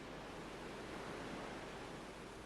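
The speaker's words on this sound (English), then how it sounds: "Is there something inside of that? Are you hearing the ocean?" Soft, steady ocean-like hiss from a sphere held up to the ear in Final Fantasy X, like listening to a conch shell; faint, even and unbroken, with no talking over it.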